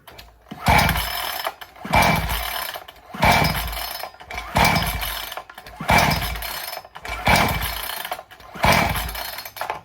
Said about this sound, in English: I'm going to pull it a couple times here, but I'm not using the choke, so I doubt it'll try to fire